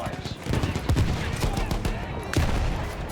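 A rapid series of sharp, booming artillery blasts in the video game Battlefield 1 rings out in irregular bursts, with a voice talking over the explosive gunfire.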